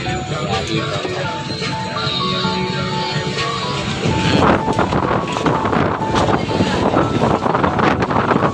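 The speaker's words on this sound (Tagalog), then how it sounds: "Kasi siya na mahangin." Wind gusts across a microphone at an outdoor street food stall in Trece Martires, Cavite, a steady broadband rush that swells louder in the second half, with faint voices beneath.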